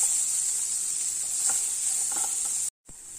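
Capsicum rice masala sautés in a pan with a steady, bright sizzling hiss and faint crackles. The sound cuts out for a moment near the end, then resumes.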